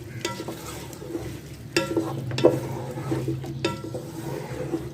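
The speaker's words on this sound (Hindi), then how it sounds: "एक दफ़ा इसको मिक्स कर दें।" A spoon stirs a spiced chickpea and potato biryani mixture in a pot over gentle sizzling, with steady scraping strokes and a few louder clinks against the pot rim, close and continuous with no talking.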